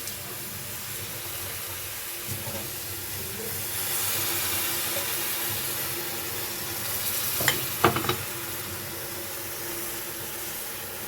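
Grated carrots fry in a pan with powdered milk, giving a low, steady sizzle with soft stirring. A few sharper scrapes of the spatula come near the end, and no one talks.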